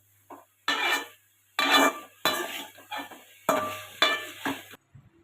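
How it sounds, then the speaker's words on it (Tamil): Cauliflower being stirred and tossed with capsicum, onion and sauce in a pan for Gobi Manchurian; bursts of close metal scraping and clinking of a spoon against the pan come in several separate strokes, with a soft sizzle underneath. "இப்போ காலிஃப்ளவரை போட்டு நல்லா மிக்ஸ் பண்ணிகிட்டு இருக்கோம்"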